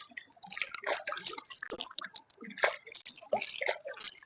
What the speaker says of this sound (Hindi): इस औषधि को अच्छे से धो लेते हैं, क्योंकि जल में जितना अच्छे से ये धुल जाएगी